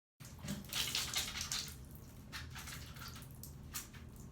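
Wet squishing of curly hair being worked with DevaCurl conditioner, soft repeated squelches amid running water, quiet and close with no talk.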